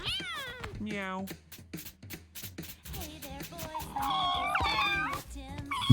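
Cartoonish cats in the video game Mewgenics meow repeatedly, short rising and falling mews alongside longer drawn-out calls, mixed with game noises and a person talking.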